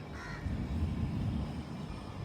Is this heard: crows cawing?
yes